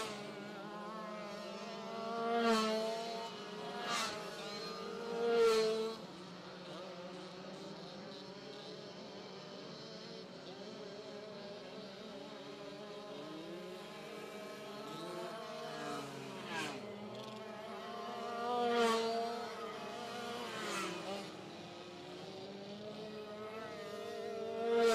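Dirt kart engines revving around a track at the South Australian Dirt Kart Titles, a faint distant buzzing drone with several rising and falling surges as karts pass, steady background roar throughout.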